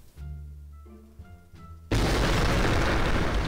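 A nuclear bomb dropped on a city in City Smash goes off as a sudden, loud, sustained roaring blast that swamps quieter game tones before it and keeps rumbling to the end.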